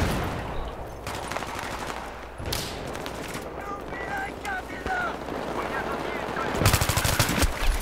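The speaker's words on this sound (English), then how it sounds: "They're shooting down from upper highway." Heavy gunfire in a large-scale Battlefield match on the Grand Bazaar map, with dense bursts of automatic fire crackling steadily throughout and a louder, closer volley near the end.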